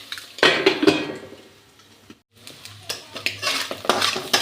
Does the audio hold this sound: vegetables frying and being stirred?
yes